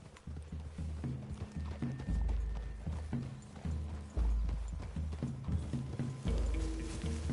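Horse hooves clip-clop steadily on the ground in a video game, loud and close, with faint creaks and rattles of gear mixed in and no talking.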